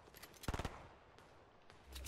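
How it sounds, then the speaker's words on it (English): Gunfire in Fortnite, a quick burst of several sharp shots in rapid succession followed by a few fainter scattered shots, fairly quiet and distant. "Yeah, they're shooting."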